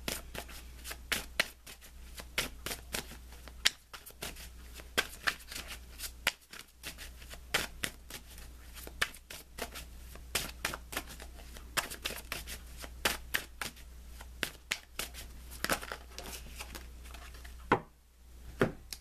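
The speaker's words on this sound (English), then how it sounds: "Let me pull you an additional guidance card." Tarot cards shuffled continuously close to the microphone, with quick repeated riffling and slapping bursts over a low steady hum, with no talking.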